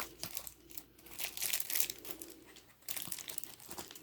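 Close, crinkly snipping and crackling as scissors cut the plastic packaging of a wrestling belt, in short irregular bursts, with brief pauses between cuts.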